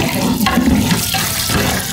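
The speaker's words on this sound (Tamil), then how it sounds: "சரி வேகிறதுக்காக தண்ணியை ஊற்றி அதை வேக வைக்கிறோம்." Water pours steadily into a biryani pot set on a stove for cooking, a loud, close and continuous splashing rush without any voices.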